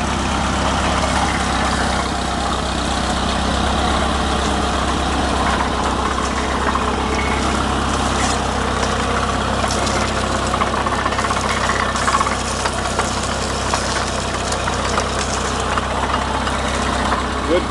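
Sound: 1951 Case VAI tractor engine running, powering the cane mill

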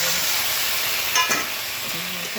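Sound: fish frying in spice paste

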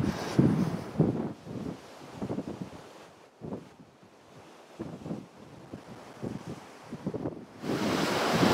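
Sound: wind on a hilltop

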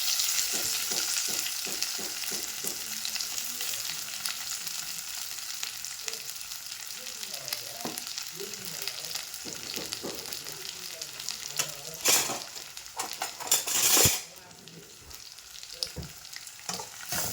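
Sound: onions and curry leaves sautéing in a pan

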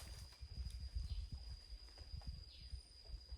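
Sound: footsteps of someone walking in a forest

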